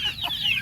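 A hen that has just hatched chicks gives a short burst of nearby clucking, a quick, fairly quiet call lasting under a second.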